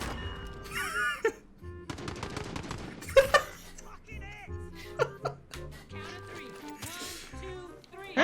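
Gunfire in the video game Warzone: bursts of automatic shots and single cracks come in irregular clusters, mixed with people talking and laughing over the game audio.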